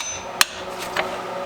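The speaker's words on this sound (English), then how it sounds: "start hitting it with the hammer" A hammer strikes an axle shaft to knock it loose, two sharp metallic blows about half a second apart, the first louder, close up with no talk.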